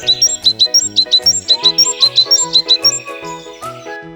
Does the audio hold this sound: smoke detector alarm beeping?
no